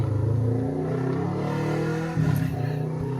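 A neighbor's motorcycle engine revs loudly close by, holding a steady growl that dips briefly and then surges again in a second rev.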